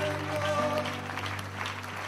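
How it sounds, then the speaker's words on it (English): A church congregation gives a round of hand clapping in praise during a sermon, a soft, blended patter of applause over sustained organ or keyboard tones, with some voices underneath. "Can we give him another hand clap of praise?"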